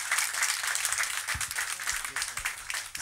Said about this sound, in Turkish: Alkışlar Cemil abime gelsin.